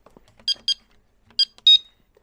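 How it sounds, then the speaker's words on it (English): A building alarm keypad beeping as it is switched off, four short sharp electronic beeps in two pairs, close and loud over quiet background clicks. "Turn the alarm off."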